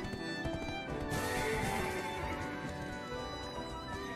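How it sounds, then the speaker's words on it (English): A horse gallops with rapid clip-clopping hooves and lets out a whinny in the video game Black Desert, set against steady game music and effects. "this horse goes fast"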